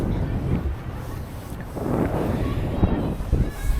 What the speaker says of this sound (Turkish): çok çok esiyor burada